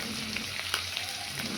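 Poppy seed, cumin and ginger pastes frying together in a pan for a Bengali carrot and eggplant dish, a soft brief hiss of sizzling oil with a faint stir, heard alone.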